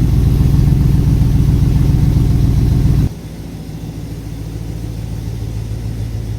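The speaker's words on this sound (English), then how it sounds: "All right, this is the rumble around the back." Deep exhaust rumble from a Range Rover Classic 3.9 V8 fitted with tubular manifolds, idling steadily close behind the vehicle on a cold day, with a drop in level partway through as the sound settles into a lower, quieter burble.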